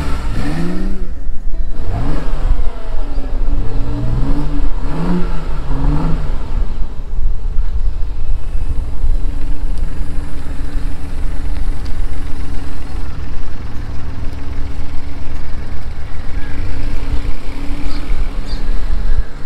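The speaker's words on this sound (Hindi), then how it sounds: "अब हम देखेंगे गाड़ी को राइड करके कि गाड़ी का साउंड कैसा है" A BMW i8 hybrid sports car accelerates and cruises on the road, its engine rising in rapid revving sweeps early on, then settling into a loud, steady drone with road noise.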